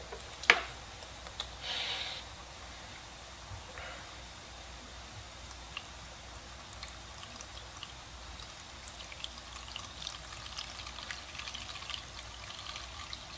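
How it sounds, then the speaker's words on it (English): Water drains from the valve of an Exo Terra frog terrarium's drainage layer into a bucket, a soft, quiet trickling pour with a brief splashy burst near the start and faint ticks over the rest. "As soon as I open the valve, the water comes rushing through."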